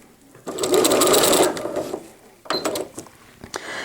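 A sewing machine stitches cotton diaper fabric in two quick bursts of rapid mechanical clatter, a longer run followed by a pause and a shorter run with faint clicks.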